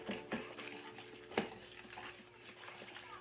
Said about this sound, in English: stir it all up